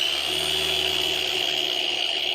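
A polishing machine set to speed 6 spins its pad steadily, making a constant, close, fairly loud whir with a high-pitched tonal whine and no pauses.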